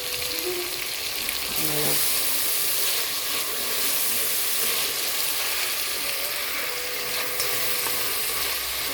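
Chopped leeks sizzle and fry in a pan with pork and vegetables, a steady close hiss of hot oil running throughout with faint stirring, and a voice speaks briefly.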